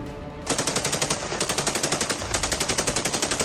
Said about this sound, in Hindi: मैदानी जंग में दोनों तरफ से भयानक गोलीबारी हो रही है